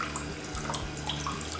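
Whey runs out of curdled milk (chhena) held in a cloth, a continuous close trickle and splatter of water, steady and unbroken with small gurgling bursts.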